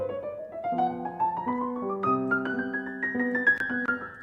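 A piano plays a chromatic scale in a steady rising line of half steps over sustained lower chords, moderately quiet with no talking.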